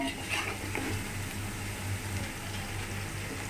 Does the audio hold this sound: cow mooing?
no